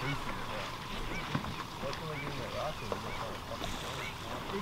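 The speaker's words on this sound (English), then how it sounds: "Two geese!" Geese honk on a New Zealand North Island duck hunting trip, a few scattered calls against steady outdoor background noise. People speak close by at times.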